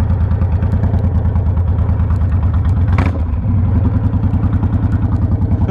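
Honda VTX 1300 cruiser motorcycle idling close by with a loud, steady, lumpy V-twin throb, a brief rev blip midway, then settling back to the rhythmic idle.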